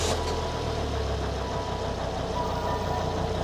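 A 2003 Volvo XC90 D5 diesel engine idling after an injector swap during a misfire check, with a steady close low rumble and faint rhythmic clatter throughout, ending in a brief small knock.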